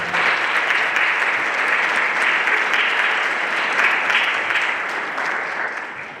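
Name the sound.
applause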